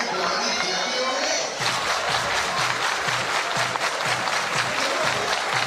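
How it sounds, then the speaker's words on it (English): Baseball fans at an Iowa Hawkeyes game cheer and clap, a dense, sustained wash of crowd applause that builds after a brief quieter opening and stays loud throughout. "Fans are energized, cheering for the Hawks."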